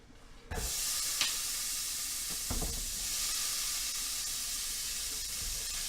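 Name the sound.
food sizzling in hot oil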